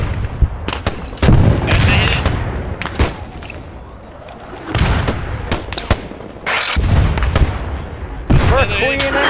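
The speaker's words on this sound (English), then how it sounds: "Shots over there." Gunfire crackles in a battle near a bridge, sharp shots and booms bursting in irregular clusters, some close and loud, others more distant, with voices shouting over the fighting.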